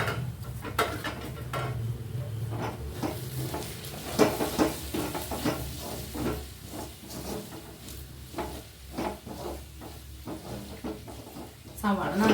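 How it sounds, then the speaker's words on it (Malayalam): Sliced onions fry in oil in a pan with a soft, low sizzle, broken by frequent clinks and scrapes of a spoon against the pan, while a voice talks over it. "സവാള നന്നായി മൊരിയട്ടെ കേട്ടോ"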